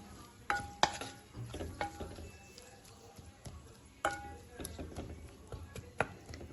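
Masala being sautéed in a pan for a Tamil dried fish curry (karuvattu kulambu), with intermittent spatula scrapes and knocks over a faint, steady sizzle and no talking.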